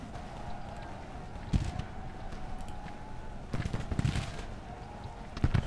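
Scattered musket volleys as Civil War troops open fire in the video game Grand Tactician: The Civil War, with several sharp cracks in clusters that sound fairly distant, over a low ambient bed.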